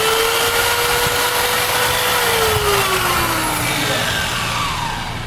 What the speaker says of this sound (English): I've recommended this as my first choice in random orbital polisher